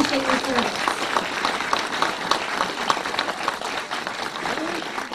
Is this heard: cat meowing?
no